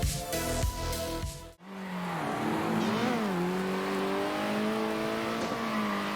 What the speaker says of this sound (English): If you love cars, you love the sound of cars, and this is unfortunately the weakest part of the Circuit Superstars package.